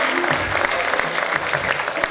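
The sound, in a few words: audience applause at award ceremony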